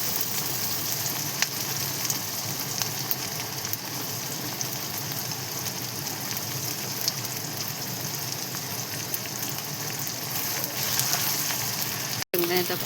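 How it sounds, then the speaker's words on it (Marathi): Onion roasting in a pan for a greens recipe, a steady dense sizzle running without a break, with faint stirring and a brief cut near the end. "आणि छान असा कांदा वगैरे आपण भाजून घेऊया चांगल्या पद्धतीनं मस्त असा"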